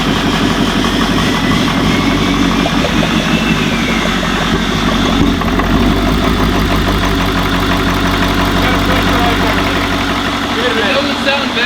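A diesel truck engine fitted with an Industrial Injection XR2 turbo idles after fuel system work, a loud, steady, close rumble throughout with voices talking over it.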